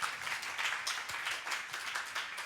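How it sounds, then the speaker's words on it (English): Audience at a 2019 e-learning conference session on digital citizenship applauds the panelists, with steady dense clapping from a room-sized crowd throughout, moderately loud and unbroken. "If you could give them a round of applause."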